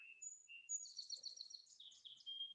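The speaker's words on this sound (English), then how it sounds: "Oh, the birds sound so beautiful." Birds sing alone in clear, high chirps and warbling phrases, several overlapping calls, fairly quiet against an otherwise silent background.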